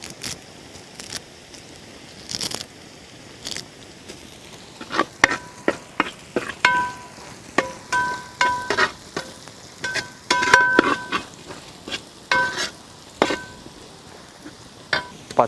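Shallots sizzle and crackle as they fry in hot coconut oil, a steady close hiss broken by sharp pops and stirring clinks from a utensil, with no talking.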